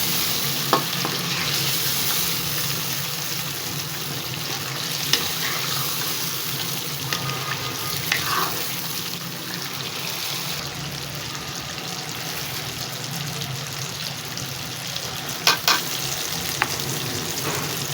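Chicken Shinwari karahi gravy sizzles and spits steadily in a hot pan while a spoon stirs and scrapes through it, with a few sharp clinks against the metal, close and continuous.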